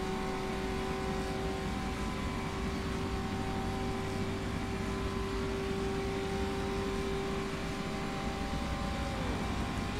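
A steady, sustained 1950s race car engine drone at Monza in the rFactor 2 racing game, with a high whine holding constantly throughout, loud and continuous at speed.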